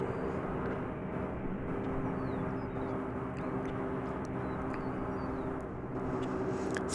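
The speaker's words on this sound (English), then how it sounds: "Off to Portland goes American Flight 2655, this Airbus A321. Slowly beginning its flight" An American Airlines Airbus A321 at DFW Airport begins its slow takeoff roll, a steady, distant engine drone with a low hum that holds evenly across the whole stretch.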